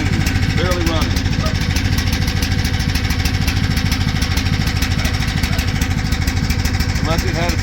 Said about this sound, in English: Straight out of the box, brand new carburetor, choking and barely running